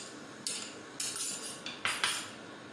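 A metal spoon scrapes and clinks against a karahi pan as blended yogurt is added and stirred, several short bright strokes in an uneven rhythm, close and fairly quiet with no talking.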